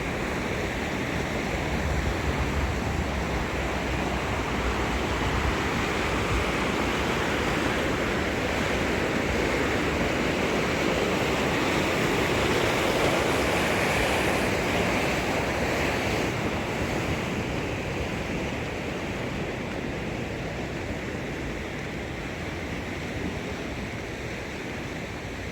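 Steady, loud rushing of the Bear River rapids in Petoskey, Michigan, a dense unbroken roar of tumbling water with some wind buffeting, continuing without pause and with no voices.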